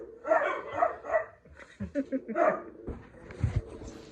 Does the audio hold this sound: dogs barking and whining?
yes